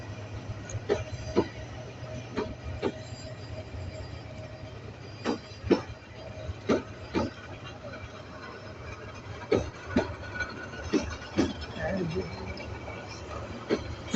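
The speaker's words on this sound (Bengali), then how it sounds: "ট্রেনটা ঢাকার উদ্দেশ্যে ছেড়ে গেল" An intercity train of thirteen carriages rolls out of Tongi railway station, its diesel engine giving off black smoke as passengers ride on the roof; a low, steady rumble sits beneath a string of sharp intermittent clacks and knocks, with voices in the background.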